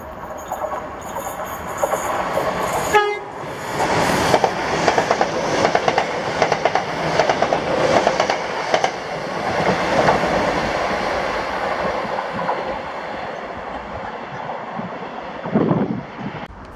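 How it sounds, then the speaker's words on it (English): A ScotRail class 318 electric passenger train passes close by at Bowling, opening with a sharp squeal and then a long, steady rumble of wheels with rhythmic clickety-clack over rail joints and wind buffeting, fading as the train departs. "this was 2E61, the 1543 ScotRail service to Balloch from Airdrie with 318260 in the lead"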